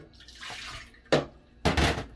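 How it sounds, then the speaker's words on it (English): A cup of water pours into a pan in two short splashing bursts after a softer trickle, close and loud, with no voices. "Alright, so now we're going to add our cup of water."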